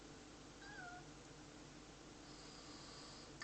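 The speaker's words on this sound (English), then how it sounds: "Yeah, he's started meowing." Pet cat Pippin gives one or two faint, thin meows over a steady background hum, quiet and fairly close.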